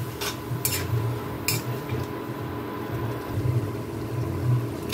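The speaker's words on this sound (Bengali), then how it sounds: "এখন মশলাটাকে খুব ভালো করে কষিয়ে নেব।" Spice paste with a little water stirred and fried in a pan, soft bubbling under a low hum, punctuated by a few brisk scraping strokes of a spoon against the pan.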